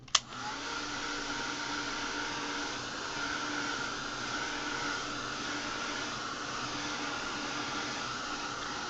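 A heat tool blowing steadily to dry light molding paste on a canvas, a continuous close airy roar holding level throughout after a brief click at the start.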